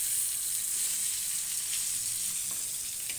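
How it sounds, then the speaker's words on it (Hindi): Stuffed pomfret fish frying in oil over low gas, a steady, soft, continuous sizzle close by with no voices and no break in the hiss. "क्योंकि ये स्टफ्ड है ना, इसको थोड़ा स्लो गैस पे फ्राई करना चाहिए"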